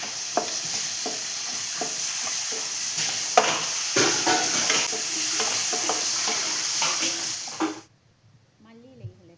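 Sliced onions with green chillies and ginger-garlic paste sizzle and hiss in a pan while a spoon scrapes and stirs in an irregular rhythm, close and fairly loud, until the frying cuts off abruptly near the end.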